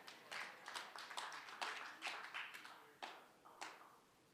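Audience at a news conference naming the Associated Press Coach of the Year applauds in a few short rhythmic bursts of hand claps, each burst fading before the next, with no talk.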